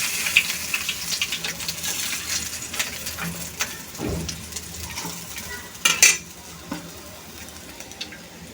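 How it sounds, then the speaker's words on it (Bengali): Small puti fish fry lightly in oil in a pan, a soft sizzle beneath frequent clinks and scrapes of a utensil against the pan, with a couple of louder metallic knocks. "তো পুঁটি মাছগুলো আমি ভালোভাবে ধুয়ে মাছগুলো ভেজে নিচ্ছি হালকা করে"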